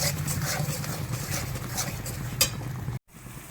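Sugar being stirred into a paneer curry in a pan, a steady low scraping and mixing texture with faint clinks, fairly close, briefly cut to near silence near the end.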